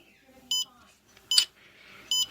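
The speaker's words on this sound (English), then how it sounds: "You'll hear the scanner beep those times." Three short, sharp electronic beeps, evenly spaced about three-quarters of a second apart, against near silence.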